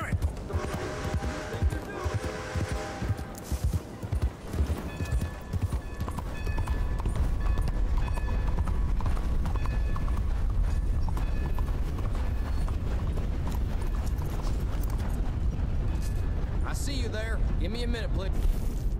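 A horse's hooves clip-clop in the video game Red Dead Redemption 2. The hoofbeats are loud and run steadily under someone talking and game sounds, and the pace picks up into a fast, continuous gallop rhythm.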